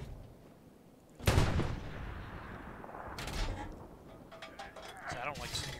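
An artillery gun firing in the video game Hell Let Loose: one heavy booming blast, then rumbling echoes and later distant impacts, with a voice talking over part of it.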